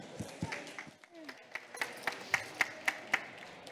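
Audience applause at a Heritage Alliance talk on digital skills as Delphine is introduced: scattered claps that settle into a few sharp, evenly spaced hand claps, fairly faint in a quiet room.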